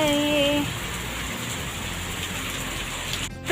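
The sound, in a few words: heavy rain pouring down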